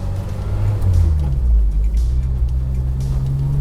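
A 1995 Jeep Wrangler YJ rolls down a gravel road with a steady low engine drone and rumbling road noise, with faint crunchy rattles over the top throughout.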